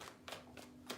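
Tarot cards being shuffled, three quick soft riffling bursts in close succession, faint and near.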